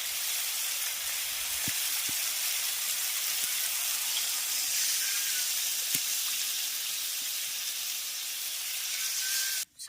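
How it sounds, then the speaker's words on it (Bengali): Water poured into a pan of spiced potatoes frying in oil makes a loud, steady sizzle and hiss with a few sharp pops and crackles scattered throughout, cutting off abruptly at the very end. "আচ্ছা আলু দিয়ে মশলার সঙ্গে খুব ভালো করে কষিয়ে নিলাম এবার এর মধ্যে দিয়ে দেবো জল"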